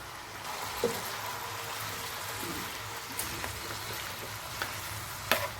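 Potato pieces frying in a pan as salt is added and stirred in, a soft continuous sizzle with a few faint clinks and scrapes of the spoon.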